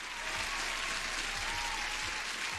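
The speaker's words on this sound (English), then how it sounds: "a huge applause for everyone" Steady applause from a crowd, a continuous wash of clapping at moderate level with no pauses, heard during a live futures trading stream.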